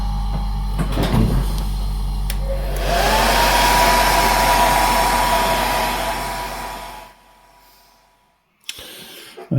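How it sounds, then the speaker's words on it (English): A hairdryer drying paint on a brook trout painting runs with a steady close whoosh that rises in strength for several seconds, then fades and stops, followed by brief handling clatter. "a good hairdryer makes the wait a little shorter"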